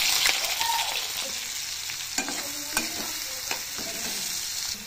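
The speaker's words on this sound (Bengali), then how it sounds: "আমি এবার পেঁয়াজগুলো ফার্স্ট ভেজে নেব" Sliced onions frying in hot oil for birista, a loud continuous sizzle close by, broken by a few sharp clinks and scrapes of stirring, with no voices.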